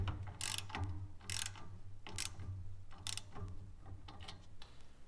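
A hand ratchet tightens the bolts on an EGR delete cap under a vehicle's hood, giving four or five quick bursts of close, crisp clicking with short pauses between strokes and a low hum underneath.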